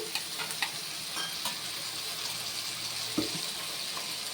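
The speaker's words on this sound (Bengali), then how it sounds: "এবার মিক্সির বাটিটা ধুয়ে একটু জল দিয়ে দিচ্ছি" Frying onion-garlic paste keeps up a soft, steady sizzle in a pot, with a few light clinks and a brief splash as a little water goes in partway through.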